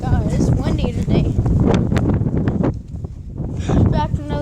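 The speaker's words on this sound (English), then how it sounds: "Oh my god, it's windy today." Strong gusty wind buffets the microphone at a farm with a tractor, a loud rumbling roar that rises and falls, with a person talking over it.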